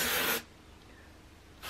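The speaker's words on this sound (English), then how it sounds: "Let me spray it, then I'll talk, because it's quite loud." A short, loud hiss of Batiste dry shampoo sprayed into hair, one burst at the start and the onset of a second at the end, with quiet between them.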